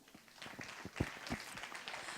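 Audience at an awards ceremony for apprentice graduates applauds, a quiet, steady patter of many hands clapping heard from a distance throughout.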